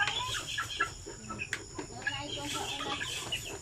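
Native chickens clucking in a coop, soft scattered clucks and calls at moderate distance over a low background, with faint voices mixed in.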